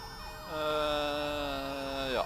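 Ambulance siren in a GTA 5 game, wailing loud and close with a steady two-tone pattern, briefly dropping in pitch near the end.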